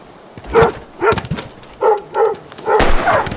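A dog in the video game Life is Strange gives a series of about five sharp, loud barks in an uneven rhythm, close by and with no speech over them.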